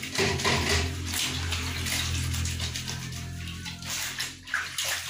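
Clothes washed by hand with soap in a basin of water, with continuous splashing, sloshing and rubbing noises close by, loudest at first and turning choppier toward the end, no voices.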